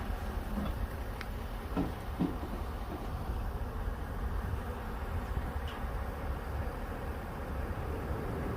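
A swarm of honeybees gives a steady, dense buzz of wings flapping hard, fairly faint and continuous over low background noise, with a few brief knocks.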